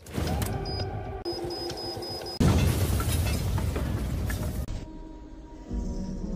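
A large explosion in a Bollywood action film, a heavy boom that erupts partway through and rolls on loudly for a couple of seconds, with debris-like rumble settling afterward.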